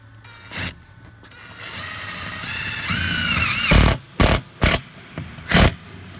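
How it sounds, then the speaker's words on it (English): A power drill pre-drilling countersunk screw holes in plywood sheeting, a rising whine that climbs in pitch, followed by several short separate bursts. "I'm going to drill a bit ahead in them."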